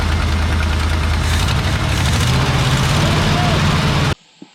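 A 1968 Ford F100 with a 351 engine runs and idles on its own, a steady loud rumble with a low droning hum that continues for about four seconds before cutting off abruptly.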